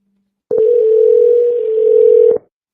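A single steady telephone tone holds loud and unbroken for about two seconds while a call is placed to a real estate contact, then cuts off abruptly, with no voices.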